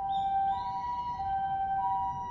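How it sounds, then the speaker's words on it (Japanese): An ambulance siren wails steadily in the distance, its two-tone pitch holding alone over faint background noise. "救急車だな。 ピーポーピーポー言ってるよ。"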